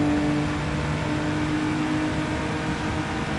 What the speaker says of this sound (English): The engine noise isn't anywhere near that loud.